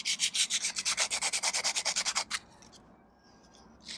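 240-grit sandpaper works a 1995 Corvette C4 overflow tube in fast, rhythmic strokes, about twenty close, crisp scrapes in two seconds, then stops into near silence before a final scrape.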